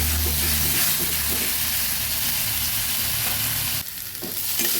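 A paste of ginger, garlic and onion sizzling loudly in a pan for tengra fish curry, a dense unbroken frying hiss with faint stirring, dipping briefly near the end before surging back.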